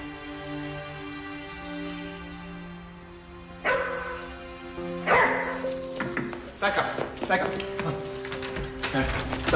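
A dog barking loudly at a visitor at the door, several sharp barks and yips in quick bursts alongside people talking.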